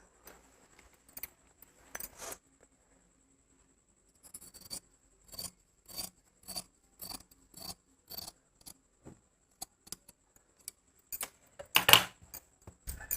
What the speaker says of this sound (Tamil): இது வந்து கட் பண்ணி எடுத்துக்கிறேன்.